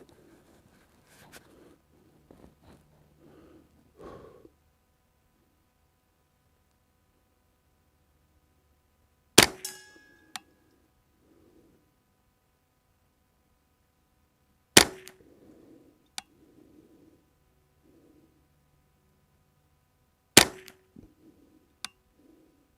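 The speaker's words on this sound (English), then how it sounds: "We're gonna get these 20 rounds on 1-inch targets downrange, and we'll see how she goes." Three sharp .22 rifle shots from a CST CentriX-22 10/22 receiver with a Summit Precision barrel, fired several seconds apart at targets downrange, each followed by faint metallic pings and light movement.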